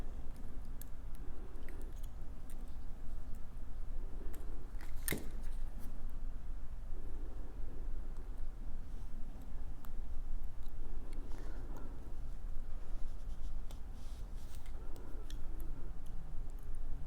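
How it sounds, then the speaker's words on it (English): Jewelry wire being wrapped around a bead on a chandelier necklace, with faint scattered ticks and small metallic clicks over a low steady background; no talking. "I am going to wire wrap it onto my chandelier"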